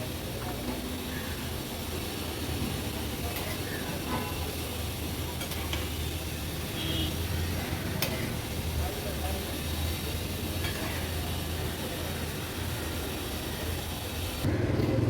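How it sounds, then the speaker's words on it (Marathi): Khari shankarpali deep-frying in oil over a low gas flame, a steady soft sizzle and bubbling that runs throughout, with a louder burst near the end. "आता लो फ्लेमवरच या शंकरपाळ्या आपण व्यवस्थित तळून घेऊया"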